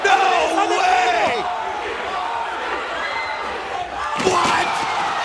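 A packed wrestling arena crowd roars in a loud, sustained swell after a high dive off the top of a set at a TNA Full Metal Mayhem match, surging again near the end, with commentary voices running underneath.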